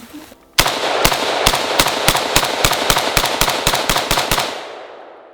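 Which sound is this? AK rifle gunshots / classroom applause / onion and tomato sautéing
AK rifle gunshots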